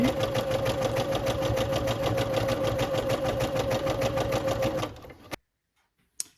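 A sewing machine stitching elastic onto a bodysuit, running in a fast, steady mechanical whir with rapid regular needle ticks for about five seconds before stopping, followed by a single faint click.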